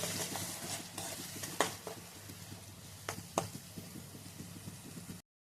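Masala paste being stirred into fried onions in a pan, soft sizzling under a few sharp scraping and knocking strokes of the spoon against the pan, fading out at the end with no speech.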